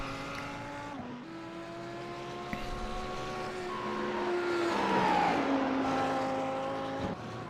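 Race cars lapping Watkins Glen in a virtual racing game, engines whining and shifting pitch as they accelerate and brake, a steady loud drone with gear changes and a swelling pass near the middle, with no talk.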